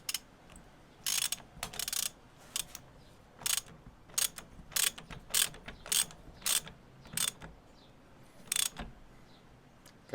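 A ratchet clicks in repeated quick bursts, about a dozen sharp ratcheting strokes spaced irregularly, while a bolt is tightened on a lift kit for a 2021 Suzuki V-Strom, close and clear with no talking.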